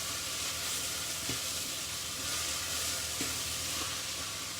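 Vegetables frying in a hot pan to drive off excess moisture, an even crackling sizzle throughout with a few light clicks of a utensil stirring, close and moderately loud with no talk.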